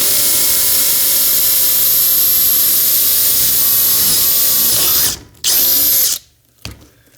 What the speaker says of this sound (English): just because I'm going to try to drill straight